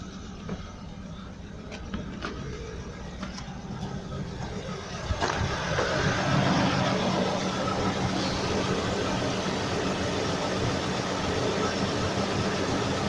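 A cheap V12 car engine runs a little rough, a steady low rumble with uneven pulses that grows louder and fuller partway through and holds at a constant level.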